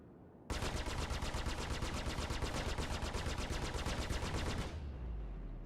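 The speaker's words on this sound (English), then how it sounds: "I'm going to shoot at you." Rapid automatic spaceship guns fire in the space combat game Star Citizen, a loud, fast, even burst of shots lasting about four seconds before cutting off, with no talking.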